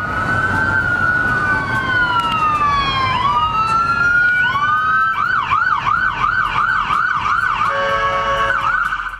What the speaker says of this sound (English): The sound of ambulances blaring horns pierces across Kampala's haunted streets